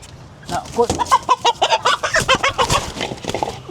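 A hen clucks close by in a series of short, rhythmic calls, with a person talking softly in the background.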